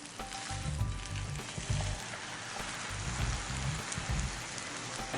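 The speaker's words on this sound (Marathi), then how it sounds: "दुसरी बाजू परतून घेऊ." Tomato omelet frying on its second side in a pan, giving a steady, dense sizzle that sounds much like rain, close and even, with faint low knocks underneath.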